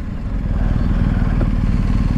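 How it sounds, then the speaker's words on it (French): Motorcycles without number plates at an enduro beach race in Le Touquet roar past close by in a loud, steady engine drone. "C'est stylé, les motos comme ça, sans plaque et tout, ça claque"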